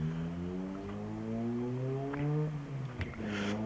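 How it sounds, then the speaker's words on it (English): A very loud car goes by close at hand, its engine drone sliding in pitch as it passes, rising to a peak before fading. "It's a very loud car going by."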